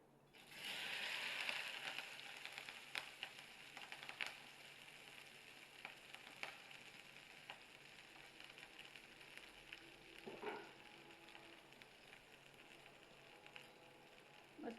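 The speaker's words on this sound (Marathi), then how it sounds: "मस्त फुल गॅसवर भाजायची, तळायची तिला." Okra frying in oil in a wok over a high gas flame gives a soft, steady sizzle that is loudest in the opening seconds, then settles into a faint crackle with occasional louder pops.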